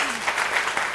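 Brief burst of clapping from a studio audience on an Armenian television talk show, dense and steady for about a second, with a faint voice mixed in.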